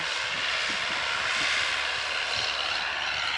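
A DMTZ 544X mini tractor engine runs steadily while tilling virgin ground, a constant loud droning roar with no pauses or voices.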